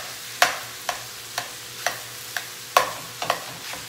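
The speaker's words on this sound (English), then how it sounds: "So start breaking the rice in there." Spoon repeatedly chopping and scraping through fried rice in a hot pan, sharp clacks arriving roughly every half second over a faint sizzle, with no voices.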